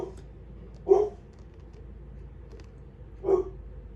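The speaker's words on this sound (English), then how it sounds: "Sorry about the dog." A dog barks twice in the background of an indoor nail-painting session, two short, moderately close barks about two and a half seconds apart over a low, steady room hum.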